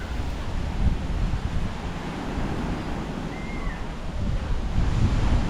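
Strong wind roars steadily into the microphone at a beach resort in Compostela, Cebu, with a low rumble of surf beneath the continuous blustery gusts and no talking.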